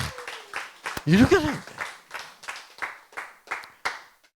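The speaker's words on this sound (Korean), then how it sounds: "박수" A congregation claps in a steady, even rhythm during a Korean sermon about sin and flesh and blood. The clapping starts under a voice, then goes on alone for about a dozen beats before fading out.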